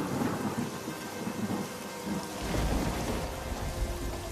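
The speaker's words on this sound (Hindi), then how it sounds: "और बारिश शुरू हो गई।" Steady heavy rain pours throughout, with a deep rumble of thunder swelling in the second half.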